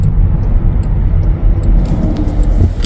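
Cars and heavier road vehicles rumble past on a road beside a turn toward a residential area, with steady low engine and tyre noise rising slightly toward the end and no talk.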